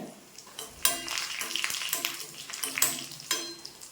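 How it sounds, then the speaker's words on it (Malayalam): Dried red chillies and shallots fry in a pan with a bright crackling sizzle, broken by a few scraping stirs and light clinks of the utensil against the pan, close and steady. "നമ്മുടെ വറ്റൽമുളക് ചേർത്ത് കൊടുക്കും ചെറിയ ഉള്ളി മൂക്കണം കേട്ടോ"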